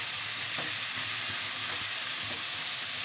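Tomato pieces frying in a pan give off a steady, loud sizzle with a few faint stirring knocks, heard close up with no voices.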